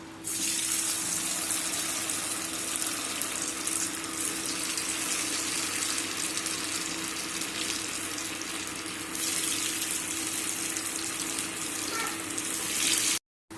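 Cauliflower pieces fry in hot oil over a medium flame, a dense, even bubbling hiss that holds steady and loud throughout, close up with no voices.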